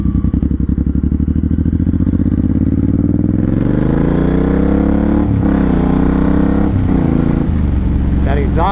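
A Suzuki M109R Boulevard cruiser motorcycle with a Cobra swept exhaust runs loud and close, a deep throbbing idle that swells as the engine revs up and settles, with brief clatter near the end.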